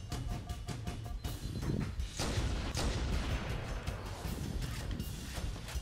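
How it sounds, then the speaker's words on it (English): Gunfire in the Halo MCC video game during a Legendary campaign battle: a dense, fairly distant stream of rapid shots and heavy thuds rattles continuously with a low rumble underneath, and no one speaks. "Are my suppressive shots working?"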